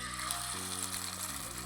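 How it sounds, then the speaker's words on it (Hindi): Chicken kebab patties fry in a pan with a steady, even sizzle that is close and fairly loud and continuous across the short stretch, alone with no talk. "अब करेंगे हम इसको सिर्फ 4 मिनट फ्राई"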